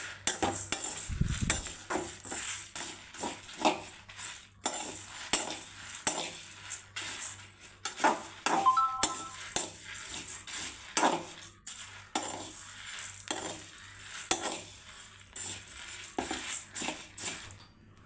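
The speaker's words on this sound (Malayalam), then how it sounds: "അരിയൊക്കെ ഇതാ പൊട്ടിത്തെറിക്കുന്നുണ്ട്." Rice roasts in a pan while a spoon stirs it, giving repeated scraping and clinking strokes and faint crackling pops at a close, moderate level, with no talking.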